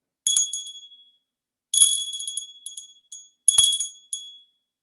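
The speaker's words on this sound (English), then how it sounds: "I ring the bell 3 times for all those who will gather here in the future." A bell rung during a Sunday church service sounds in three bright, ringing strikes spaced over a few seconds, each with a short decaying shimmer in an otherwise quiet room.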